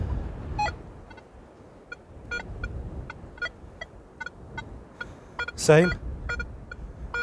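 Nokta Legend metal detector sweeping wet beach sand, giving a broken, bitty signal: scattered short electronic blips across the clip and a brief louder warbling beep near the end, with a single short spoken word.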